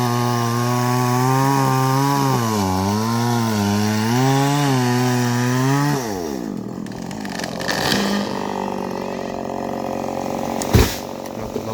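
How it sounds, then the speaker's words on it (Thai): A one-horsepower Stihl chainsaw revs loudly through eucalyptus wood, its whining pitch rising and dipping as it bites, then cuts off into rustling and a sharp crack near the end. "เลื่อยยนต์ที่ใช้เป็นของสติลนะครับ"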